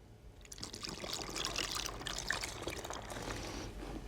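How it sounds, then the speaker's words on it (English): Water is poured into a bottle holding dry chocolate cake mix, a soft steady stream trickling and splashing close by for several seconds without any talk. "We add our water."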